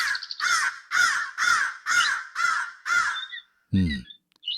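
A cartoon crow in a kids' animated moral story caws loudly and close, in a steady run of about seven evenly spaced caws, followed by a short, different squawk and then quiet.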